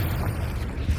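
A Confringo blasting spell explodes in Hogwarts Legacy, a brief, heavy, rumbling blast filling about a second with deep, dense noise.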